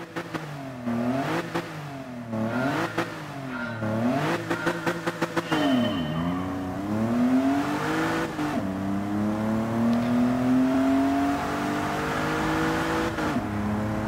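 A car engine in Gran Turismo 7 revs up and drops repeatedly through quick gear changes, then settles into a long, rising high-speed drone, loud and close.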